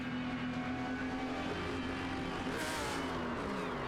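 Race car engine heard from onboard at Sebring, a steady loud drone whose pitch sags as the revs drop, with a brief burst of extra noise near the end.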